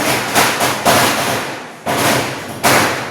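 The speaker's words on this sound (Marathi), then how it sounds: "खूप आवाज येतोय फटाक्यांचा बाहेर" Five muffled firecracker bangs go off outside during Diwali at uneven intervals, each a dull burst that fades quickly.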